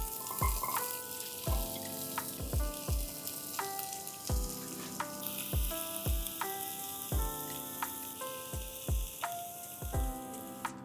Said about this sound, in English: Let's begin with a little bit of oil, following up immediately with onions, and along with this, green garlic